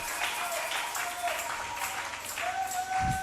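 A church congregation applauding in a steady, dense wash of clapping that runs throughout, with a faint tone sounding briefly near the end.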